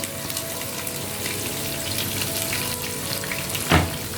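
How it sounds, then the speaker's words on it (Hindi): Two medium chopped onions go into spices already roasted in a pan for rajma chicken, giving a loud, steady close sizzle and crackle with a brief clatter of stirring near the end. "अब मैं इसमें डालूँगी प्याज जो मैंने काट के रखा हुआ था।"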